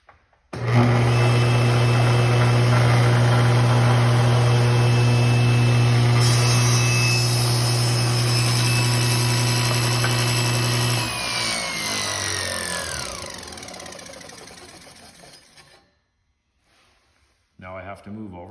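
A table saw runs loudly and cuts into wood while making a feather board, a sustained high whine under the blade that winds down and stops, followed by a short burst of noise near the end.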